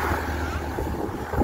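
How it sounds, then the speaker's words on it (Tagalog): Steady, blustery wind roaring across the microphone, a constant broadband rush with low rumbling gusts and no speech. "Kahit dito, grabing hangin."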